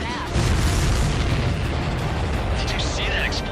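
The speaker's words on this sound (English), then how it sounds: "The missile hit its target. Everybody, keep a safe distance to avoid getting caught in the explosion." A supply ship explodes after a missile hit in the Ace Combat 7 video game: a sustained loud, rumbling blast roar fills the clip, with faint game voice sounds in the background.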